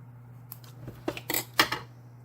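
Scissors snipping through card paper in a few quick, close cuts, the crisp snips landing one after another over a faint steady hum.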